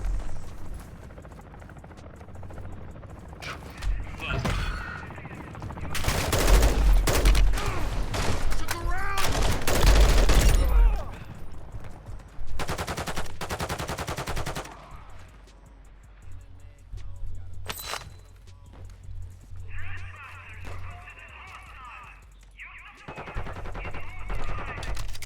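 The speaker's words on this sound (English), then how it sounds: "You are taking effective fire." Video game gunfire crackles in bursts, with heavy volleys of rapid shots clustered in the middle and scattered single reports around them, set against a low background rumble and brief distant noises.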